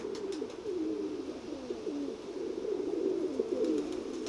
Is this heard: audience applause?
no